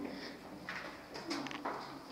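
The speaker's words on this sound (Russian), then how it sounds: "тут мания голубей" Pigeons coo in a building in Kharkiv where many of them gather. A few faint, muffled coos rise over a steady background hum.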